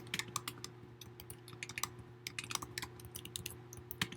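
Rapid, close clicking of keys on a computer keyboard as code is typed, in irregular bursts over a faint steady hum.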